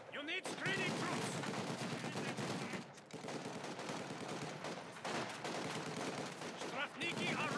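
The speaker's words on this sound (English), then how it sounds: "Taking small arms fire!" Small arms fire in Company of Heroes 2 battle, dense crackling rifle and machine gun shots layered over one another with distant explosions, continuous and moderately loud, with unit voice callouts faintly mixed in.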